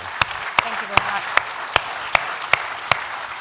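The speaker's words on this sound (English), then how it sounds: "please join me in a round of applause for Minister Mauro and Minister McGarry" Conference audience applause for two ministers at the OGRA Conference, an even bed of clapping punctuated by regular sharp, close claps at a steady beat.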